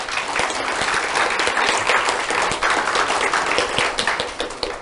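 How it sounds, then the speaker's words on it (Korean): Audience applause at a cake-cutting ceremony at a 2019 gathering of successful applicants, a steady, loud round of many hands clapping throughout, with no talk over it. "여러분은 큰 박수를 쳐주시면 감사하겠습니다"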